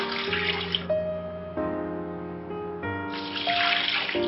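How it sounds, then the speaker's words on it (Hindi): About one litre of water is poured steadily into a pot of beef paya in a home kitchen, a continuous close splashing stream with a brief dip in loudness midway. "अब मैं इसमें शामिल कर रही हूँ तकरीबन 1 लीटर पानी।"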